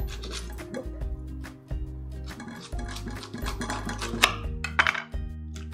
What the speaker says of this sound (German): Den befreien wir erst einmal von dem Strunk und schneiden wir keilförmig